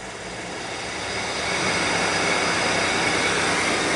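A Jeep 4.0L engine runs with its idle raised from a scan tool, a broad steady roar close by that swells over the first second and a half, then holds at a constant loud level.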